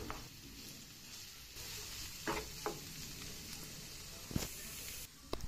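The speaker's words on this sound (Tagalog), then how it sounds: "Sunod, ilagay na ang tahong. Igisa rin ito ng konting minuto." Mussels sauté in a pan with onions, giving a steady close sizzle with a few clattering stirs and utensil knocks.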